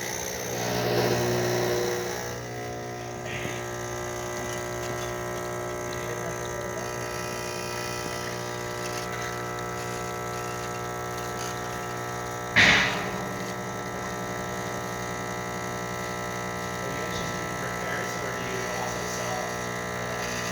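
A Rancilio Silvia espresso machine, freshly serviced, pulls a shot with a steady vibrating pump buzz and hum that runs throughout, broken by a single sharp clank partway through.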